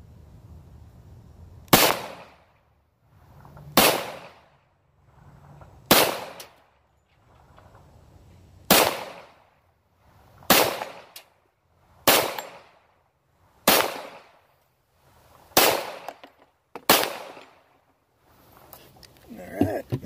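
A Hi-Point gun fires about ten loud, sharp shots into a bullet trap at a steady pace of roughly one every two seconds, each with a short echoing tail.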